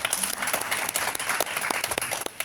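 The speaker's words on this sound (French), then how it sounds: "Voilà, vous pouvez applaudir." Audience at the launch event of a community housing lab claps steadily in a dense, moderately distant round of applause that carries on without a break.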